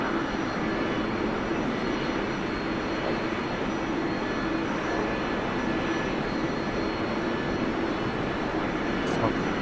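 A-4E Skyhawk jet engine adding power during a Blue Angels airshow solo practice in DCS World, a steady dense roar with a faint whine over it, continuous and close throughout.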